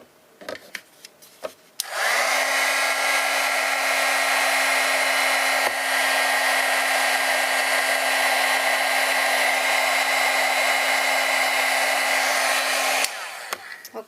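A heat tool blows steadily for about eleven seconds to heat emboss a stamped holiday card, a loud, even whooshing hum with a constant motor whine that starts and stops abruptly amid a few light handling clicks.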